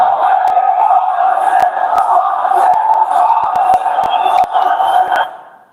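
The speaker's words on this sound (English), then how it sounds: "Look at this Denver crowd showing you some love." A large Denver stadium crowd roars and cheers for the fighter Rotang, a dense, sustained wall of voices with scattered sharp bursts that fades out at the end.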